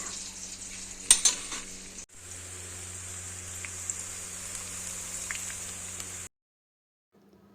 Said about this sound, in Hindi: यहाँ पे इसको फ्राई करते जाएंगे और यहाँ पे हाई टू मीडियम फ्लेम पे